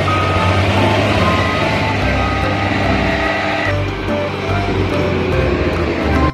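A toy loader truck sounds a steady run of reversing beeps over a dense, loud mechanical hum, continuing throughout with no talk.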